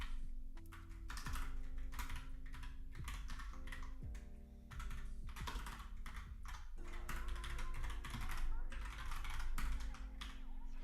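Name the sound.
typing on a computer keyboard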